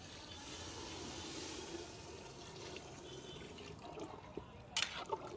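Water poured into a pressure cooker holding spiced mutton and chopped tomatoes for biryani, a steady close rushing pour that runs throughout, with a few sharper splashes near the end.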